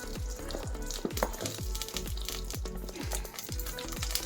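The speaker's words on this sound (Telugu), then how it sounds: "ఇప్పుడు పచ్చిమిరపకాయలు వేయించుకుందామండి" Green chillies fry in a little oil in a pan, giving a steady close sizzle with repeated stirring clatters and scrapes of a utensil throughout, no voices.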